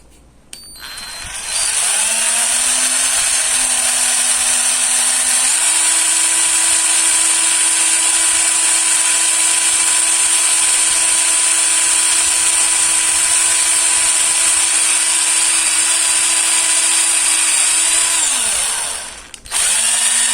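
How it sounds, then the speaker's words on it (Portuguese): A lathe drills a hole in a homemade mount for an HY-300 projector, giving a loud, steady whine close by. The pitch steps up once early on and runs unbroken for about seventeen seconds before winding down. "Vamos fazer o outro furo."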